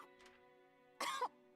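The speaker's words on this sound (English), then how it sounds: "going into a coughing fit" A single throat clear, then a short burst of harsh coughing rises over a steady low synthetic tone, close and brief.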